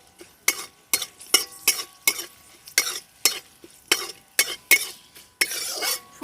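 Black mustard seeds, two dried chillies and a few curry leaves are tempered in hot oil for coconut chutney, giving a series of sharp crackling bursts and stirring scrapes at an irregular rhythm, close up, with no talk.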